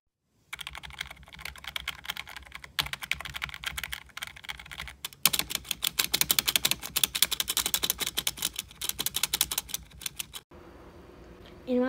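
Typing on a MageGee K1 gaming keyboard fills the scene with close, rapid clicking keystrokes in uneven bursts that pause briefly and then pick up again, growing denser in the middle before stopping abruptly.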